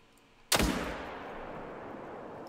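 A single 30-06 rifle shot in the hunting video game The Hunter: Call of the Wild, a loud sharp crack followed by a long rolling echo that fades over two seconds.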